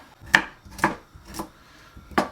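Carrots being chopped into small pieces with a knife on a board in a home kitchen, four crisp, distinct knocks spaced about half a second apart, close and alone.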